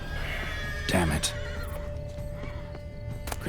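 A horse in The Witcher 3 lets out one loud neigh near the start, followed by soft hoof clops and a quiet background hum.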